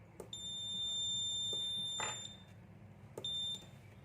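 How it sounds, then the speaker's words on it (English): Sharp, high beeps from a buzzer on a 433 MHz RF receiver module sound in short bursts, a longer tone followed by a brief pause and another beep, against a low background hum. "every time I press the first button, the first output is I use buzzer, so I will have the buzzer sound."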